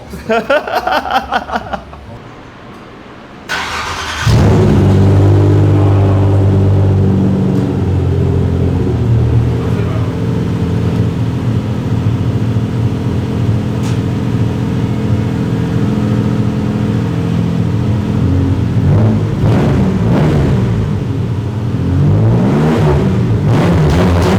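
After a brief idle and a sharp start, the V6 engine of a Hyundai Grandeur roars into a loud, sustained rev with deep rumbling exhaust and a few throttle blips.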